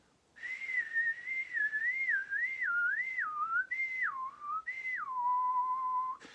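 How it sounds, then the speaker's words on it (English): A single clear whistled tune glides up and down in pitch, wavering through several phrases before settling on a long steady note. "if you whistle, if you repeat what I just did"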